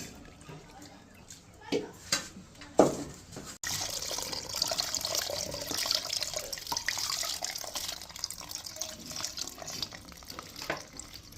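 Water from a tap runs steadily over boiled taro root being washed at a sink, a continuous splashing wash after a few brief handling knocks.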